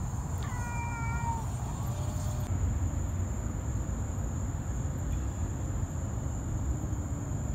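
Cats fighting outside near a Walmart let out a drawn-out yowl near the start, then fade beneath steady outdoor noise with a constant high insect-like whine.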